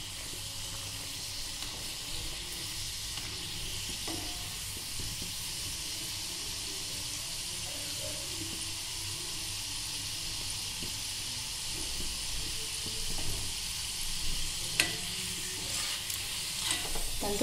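Bokul pitha frying in hot oil, a steady close sizzle and hiss throughout, with occasional soft stirring clinks and small pops that grow slightly busier toward the end.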